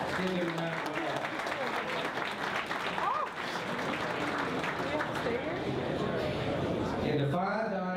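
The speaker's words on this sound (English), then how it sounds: "Give them a round of applause." Audience at an award ceremony for best dish winners claps steadily for several seconds, a dense, even patter of applause with a voice speaking over it near the end.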